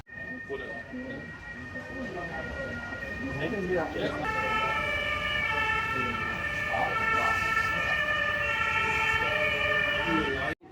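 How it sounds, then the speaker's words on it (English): A fire engine siren wails continuously on the Miniatur Wunderland model layout in Hamburg, its tone shifting partway through, under a steady hum of the busy display and crowd chatter. "Looks like the fire brigade have been summoned."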